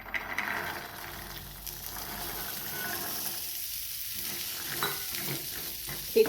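Peeled green peas being stirred into a frying mixture in a pan, with scraping and clinking of a spoon against the pan over a soft background sizzle, close and continuous.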